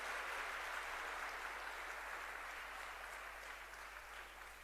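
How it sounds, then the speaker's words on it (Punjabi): An audience at a political rally in Moga, Punjab, applauds a welcome with sustained, even clapping that sounds distant and fairly faint and slowly tapers off. "ਤੇ ਇੱਕ ਵਾਰ ਜ਼ੋਰਦਾਰ ਤਾੜੀਆਂ ਨਾਲ ਸਵਾਗਤ ਹੋਣਾ ਚਾਹੀਦਾ ਸੀ।"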